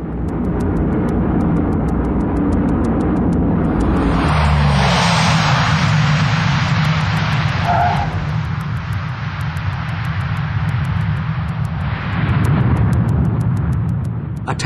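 Hercules turboprop aircraft making a tactical landing, a loud sustained propeller and engine roar that swells sharply at touchdown and stays heavy as the plane brakes to a halt.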